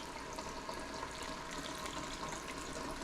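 Water poured into a pot over a pork roast for smothering with cabbage and peas, making a steady, continuous splashing, gurgling rush at moderate volume without pause.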